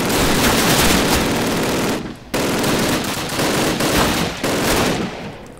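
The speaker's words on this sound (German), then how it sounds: "wir nehmen das Maschinengewehr und schießen alles ab, was wir hier treffen" Loud, sustained machine gun fire in the WWII shooter Call of Duty comes as a dense, continuous rattling burst that breaks off briefly once and then resumes.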